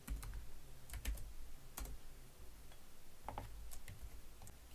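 Keys clatter on a computer keyboard while data is entered into an Excel spreadsheet. The clicks are quiet, close and irregular, falling in short bursts with brief pauses.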